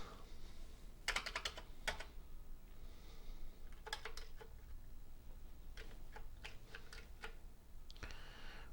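Faulty computer keyboard with a broken, stuck key being tested: scattered bursts of clicking keystrokes in irregular clusters, close and fairly faint over a low background hum.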